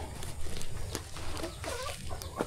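White hens near laying cluck softly amid a noisy outdoor backdrop, with scattered short calls and rustling over a steady hum, and no talk.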